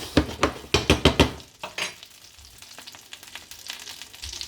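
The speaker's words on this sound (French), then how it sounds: "Donc là j'ai le beurre qui commence à devenir noisette." Butter browning in a pan gives a run of sharp, bright sizzling bursts over the first second and a half, then settles into a quieter steady crackle with occasional faint clinks of cookware.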